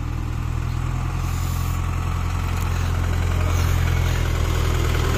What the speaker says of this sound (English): These are tractors, but well decorated.